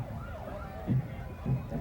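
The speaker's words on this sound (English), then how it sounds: "Of course, the sirens." Sirens wail at a small-town parade, a faint, wavering rise and fall heard at a distance beneath brief talk and crowd noise.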